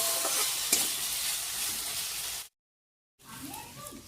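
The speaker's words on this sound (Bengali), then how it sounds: "এখন এই যে আলু বটবটি কেটে নিয়ে ভাজা করে নিচ্ছি" Sliced potatoes fry in a pan with a steady, bright sizzle and a few stirring scrapes, close and continuous, then a brief cut to silence before the sizzling resumes with faint voices.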